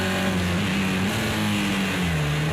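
A race car engine roars steadily in a BTCC-style race in the Project CARS 2 racing video game, with the pitch dipping slightly near the end as it short shifts.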